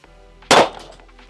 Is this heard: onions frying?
no